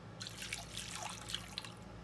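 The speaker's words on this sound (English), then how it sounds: "And then we're gonna add our water." Water poured into a flour mixture for homemade flour tortillas, a soft close trickle with scattered small drips and splashes, quiet and brief with no talking.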